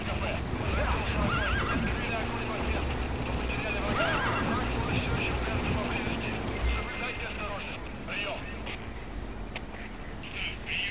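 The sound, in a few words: horse neighing and hooves in video game Metal Gear Solid 5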